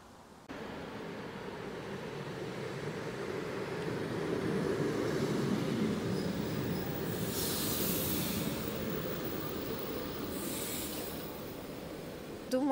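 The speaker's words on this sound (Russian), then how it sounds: "Вот я уже вижу, едет наша электричка." An electric commuter train near St Petersburg approaches, its broad rumble and hiss building gradually and holding steady, with brief higher whooshes as it draws in.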